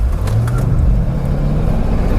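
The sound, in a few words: Mercedes-Benz E55 AMG W210 sedan launching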